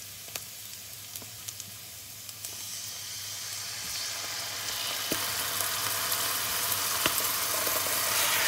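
Marinated pork for a pork menudo sizzles and fries steadily in a hot pan, a continuous close hiss that grows slightly louder and busier over time, broken by a few sharp pops and spatters.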